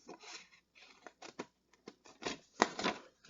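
Scissors snip through scored designer paper in a quiet, irregular run of short, crisp cuts, some in quick pairs, close up with no talking.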